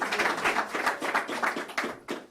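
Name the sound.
audience applause for a speaker's introduction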